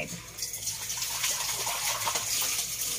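Crabs being washed under a running tap, heard as a steady splashing gush of water close by with faint handling noises and no speech.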